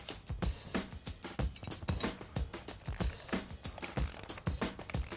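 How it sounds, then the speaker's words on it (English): A torque wrench ratcheting down bolts on a conveyor belt splice to 100 foot-pounds, a rapid series of close, sharp ratchet clicks in quick repeated strokes, steady in rhythm throughout with no talk. "You want to torque these to 100 foot-pounds."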